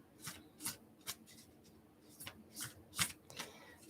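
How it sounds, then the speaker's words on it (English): Card shuffling in quick bursts of soft riffling and rubbing, several short rustles spread across a few seconds, close and fairly quiet. "Just going to go ahead and shuffle the cards."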